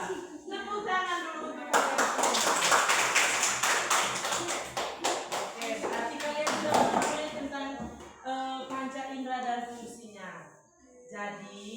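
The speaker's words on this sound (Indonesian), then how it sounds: "Tepuk tangan dulu untuk kalian" A classroom group of children in an Indonesian science lesson claps hands in a quick, rhythmic burst of sharp taps for several seconds, set between stretches of an adult voice talking.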